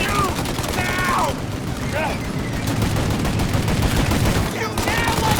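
Continuous gunfire rattles in Mafia: Definitive Edition, a loud, dense barrage of shots under shouted in-game dialogue, with brief pauses between volleys.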